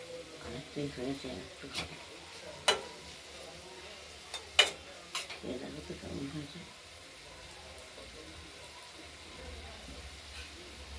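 Thin-cut beetroot and carrot strips frying in oil with green chili in a wok, a faint low sizzle with scattered sharp clicks of stirring, close and quiet.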